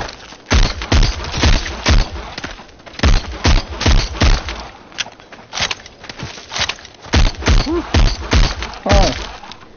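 Rapid, loud shots from a handgun in the VR zombie shooter Arizona Sunshine ring out one after another in an irregular steady rhythm, each a punchy close crack with brief thuds between.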